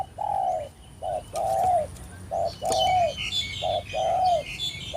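A spotted dove calling in the forest gives repeated soft, hollow coos, spaced in short phrases of two or three notes across the clip, clear and fairly close over a low background hum, with no one talking.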